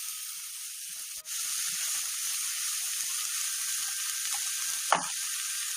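Onion, green chili, ginger and garlic sizzle in hot coconut oil with curry leaves, a steady close hiss running unbroken throughout, with a brief clatter near the end.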